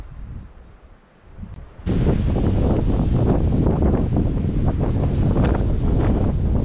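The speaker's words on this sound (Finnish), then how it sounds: "Aikamoinen tuuli täällä on." Strong wind on the fells at Saariselkä, Finland, roars steadily into the microphone, jumping sharply louder after a quieter start and then buffeting continuously with broadband rumble.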